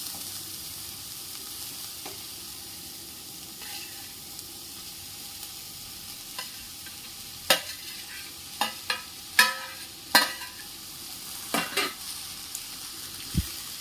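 Peas and fresh turmeric dry-roasting in a pan for a Maharashtrian haldi vegetable, a soft continuous sizzle under a run of sharp spatula scrapes and clacks against the pan in the second half.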